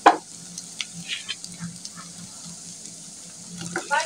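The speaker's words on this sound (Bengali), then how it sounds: "পেঁয়াজ এবং রসুন দেওয়ার পর রসুন এবং পেঁয়াজটা তেলের সাথে হালকা ব্রাউন কালার করে ভেজে নিয়েছি। তো এখন আমরা টমেটোগুলো দিয়ে দেব।" Tomatoes dropped into hot oil with lightly browned onion and garlic, sizzling and crackling steadily at close range, with a few louder bursts of spitting at the start and end.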